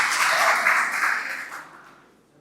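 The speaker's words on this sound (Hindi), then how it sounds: "एक मरतबा ज़ोरदार तालियां बजाकर माहौल बना।" An audience at a ghazal recitation gives dense applause that holds briefly and then tapers away to quiet.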